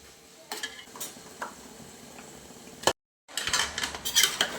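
Chicken stirred into tomato and onion masala in a large pot for a bulk chicken curry, with metal spoon scrapes and clanks against the pot, a brief silent gap midway, then busier clattering.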